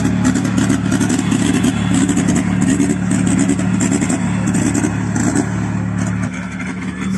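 Cars rev at a drag race, a rear-wheel-drive Chevrolet Chevette against a four-cylinder all-wheel-drive Audi S3, with a steady loud engine roar and clatter close by, no talk.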